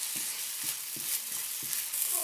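Chokat flour with turmeric fries in a pan: a steady sizzle fills the clip, with a series of regular soft scraping stirs roughly every half second, up close and with no talk.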